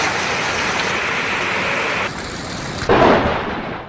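A torrential downpour lashes the hilly Sundha Mata area as a continuous heavy wash of rain with thunder rumbling in, loud and close with a sharp surge near the end, no voices.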